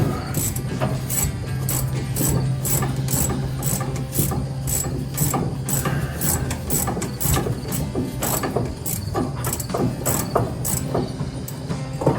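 A ratchet wrench clicks rapidly and steadily while removing a nut from an engine during teardown, with close, loud, rhythmic ratcheting over a faint background hum and no talking.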